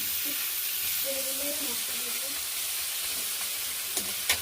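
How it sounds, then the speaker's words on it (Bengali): Steady sizzling hiss of tomatoes and chillies frying in a pan, continuous throughout, with a few faint tonal sounds in the background and a couple of brief clicks near the end. "এটাকে একটু ভাজা ভাজা করে নিই"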